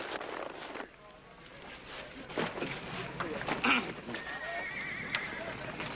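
A horse in an old western TV series whinnies loudly among clip-clopping hooves and outdoor ranch bustle, with people talking nearby.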